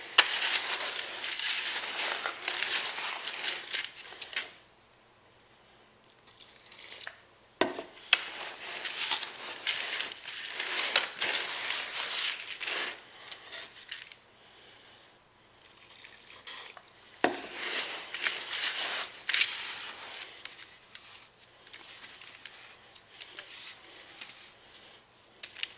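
Refractory mortar is mixed by hand with water in a bucket, a close, scraping and sloshing texture in repeated bursts separated by brief pauses and occasional sharp knocks, with no talking.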